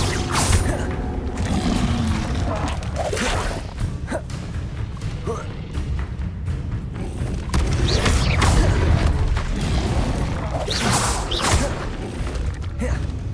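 Repeated Confringo fire spell blasts in Hogwarts Legacy amid combat, a loud continuous churn of booms, whooshes and clanking mechanical impacts with no clear pauses across the stretch.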